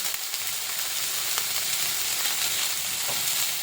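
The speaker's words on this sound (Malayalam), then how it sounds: "ഒരു 3 മിനിറ്റ് നല്ലോണം ഒന്ന് വഴറ്റിയെടുക്കാം കേട്ടോ" Chopped dosa pieces sizzle and fry steadily in a hot pan while being sautéed for kothu dosa, a continuous close crackling hiss with occasional soft stirring scrapes.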